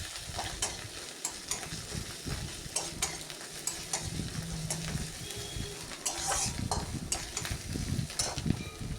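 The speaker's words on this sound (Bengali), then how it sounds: "পেঁয়াজের সাথে রসুনটাকেও আবার কিছুক্ষণের জন্য এভাবেই নেড়ে চেড়ে আমি কষিয়ে নিচ্ছি" Onion and garlic sizzle and fry in a pan while a utensil stirs them, producing steady crackling with repeated scraping strokes; no one talks.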